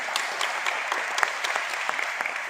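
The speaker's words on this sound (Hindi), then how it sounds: "अपने आप के लिए जोरदार ताली बजाएंगे सभी" An audience at a hospital gathering claps together in a brisk, sustained round of applause, many hands patting in fairly even rhythm, moderately loud and close, with no voices over it.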